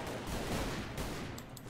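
Dense gunfire in the Half-Life 2 mod Double Action: Boogaloo, a continuous loud wash of shots and impacts with a few bright metallic clinks near the end.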